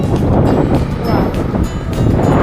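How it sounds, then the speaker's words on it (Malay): Strong wind buffeting the microphone outdoors, a loud constant rumbling roar with gusty surges throughout, with no speech over it. "Oh, dari sini angin masih kuat je."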